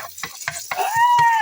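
Garlic frying in a pan for a Filipino-style Italian omelette (tortang itlog), with several short stirring and scraping strokes of a utensil in the pan, close and fairly loud, over a faint sizzle.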